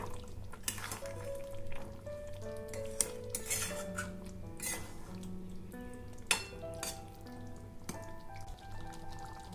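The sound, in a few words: stirring dahi chicken in the pan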